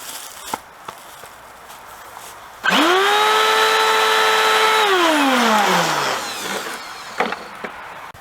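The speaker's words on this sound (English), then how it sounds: "Okay, got all the screws off." A cordless power drill backs screws out of a vacuum cleaner's casing. A single loud whine rises quickly, holds steady for about two seconds, then winds down, with quiet handling noises before and after.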